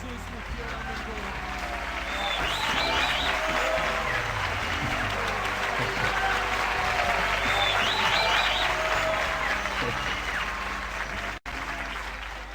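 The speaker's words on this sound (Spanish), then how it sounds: "Sí, pero no se merece esos aplausos." Audience applause in a church setting at a Saturday event, a steady broad wash of clapping lasting throughout, loud and continuous with background music underneath.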